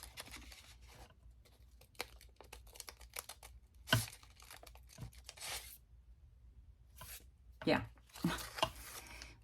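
Paper or light card being cut for a handmade craft project, with sharp snips and crinkling bursts scattered between stretches of quiet, close by, while a person speaks now and then.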